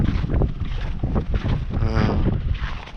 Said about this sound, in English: The wind's blowing pretty brutal out here.